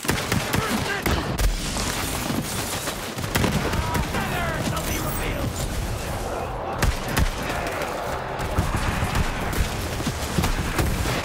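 Enemy gunfire in the video game Borderlands 3, a dense, unbroken barrage of rapid shots and bursts that stays loud throughout, with a player talking over parts of it.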